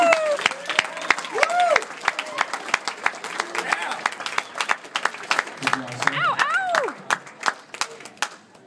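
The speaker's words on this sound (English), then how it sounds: "How about a big round of applause?" Wedding guests clap and cheer after a best man's speech, scattered claps mixed with whoops and excited voices calling out over the noise.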